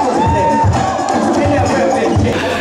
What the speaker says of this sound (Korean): 박수 내주세요!